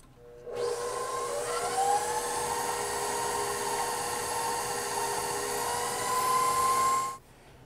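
Electric mixer creaming butter and sugar in a bowl: a steady, close motor whir that starts abruptly, holds at an even pitch for about six and a half seconds with slight rises, then stops.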